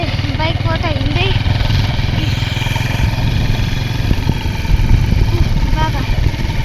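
A motorcycle ridden on a new road at sunset: the engine drones steadily up close with a low, throbbing pulse and rushing wind, while voices talk over it.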